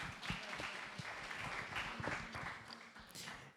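A small audience at a youth entrepreneurship mentorship event claps, faint scattered hand claps of modest density over a few seconds.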